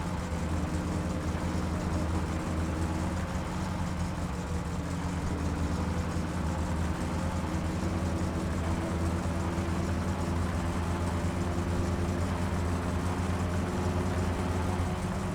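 A loud car engine running with no exhaust fitted in the driving game My Summer Car, a steady, heavy low rumble that holds unbroken throughout with no talking.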